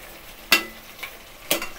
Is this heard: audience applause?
no